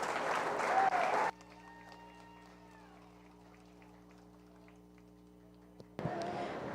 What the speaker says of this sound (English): Let's give all those kids a big round of applause.